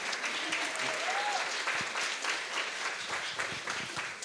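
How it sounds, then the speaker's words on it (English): A crowd applauding steadily at a book launch in Pune, dense clapping filling the room for several seconds, with a faint whistle rising briefly near the start. "These two out here, give a loud round of applause for them, Akriti and Shabnam."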